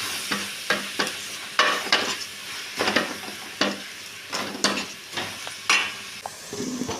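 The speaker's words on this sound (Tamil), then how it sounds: "இப்போ நல்லா கிண்டிக்கலாம்" Coriander and mint leaves stirred in a hot frying pan for chicken curry, with repeated scraping strokes of a spoon at an irregular rhythm over a soft, steady sizzle, close and fairly clear with no voices.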